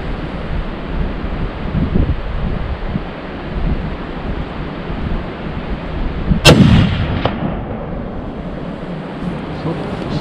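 A single loud rifle shot cracks out partway through during a bezoar ibex hunt, echoing briefly over steady wind rumble on an open mountainside.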